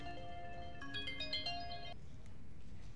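A mobile phone ringtone announcing an incoming call plays a bright electronic melody of stepped tones for about two seconds, then stops, leaving quiet room noise.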